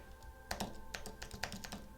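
Keys on an iPad keyboard clack in quick irregular bursts of typing, close and fairly quiet, with small pauses between strokes and no voices.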